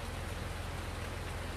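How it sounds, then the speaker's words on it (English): Steady rain falls in Farming Simulator 19, a continuous even hiss of drops on surfaces at moderate loudness with no other sounds. "it's still raining"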